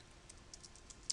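Light typing on a computer keyboard while entering a PowerShell command, a few quiet, separate key taps over about a second with no talk.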